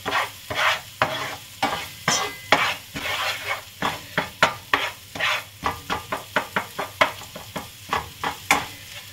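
Onions sweating in a frying pan for a pasta sauce, soft steady sizzle broken by repeated close scraping stirs of a utensil, growing into a quick regular rhythm toward the end; no voices.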